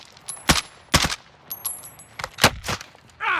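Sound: sniper shots in a video game

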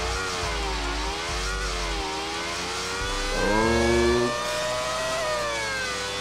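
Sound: F1 car engine revving slowly in GTA 5 video game

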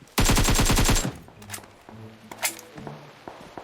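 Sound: gunfire in PUBG Mobile video game, AKM and UMP

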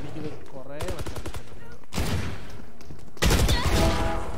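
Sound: gunfire in Valorant video game

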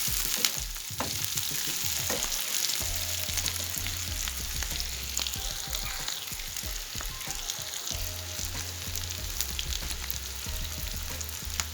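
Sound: meat and potatoes frying in a pan

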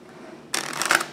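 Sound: shuffling a deck of playing cards

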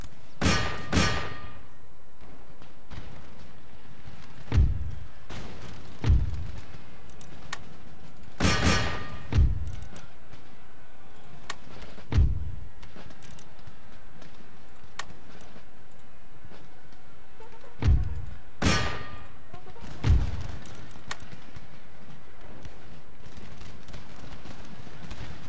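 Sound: cavalry charge and melee in Empire: Total War video game

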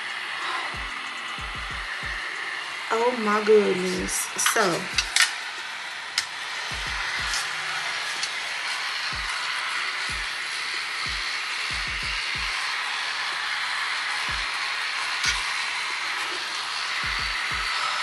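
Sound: portable neck fan blowing air

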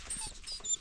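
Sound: dogs whimpering and whining

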